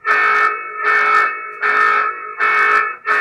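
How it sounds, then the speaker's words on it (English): A Winees F2 Pro security floodlight camera sounds its siren alarm indoors in an ordinary house room, a loud steady electronic tone pulsing in repeated bursts of about three-quarters of a second with short gaps between. "We'll go ahead and test the siren and alarm system using an iPad in an ordinary room in a house."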